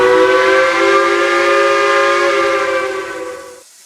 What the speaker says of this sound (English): So we're hearing for this whistle and see what it does, and ridiculously loud as well.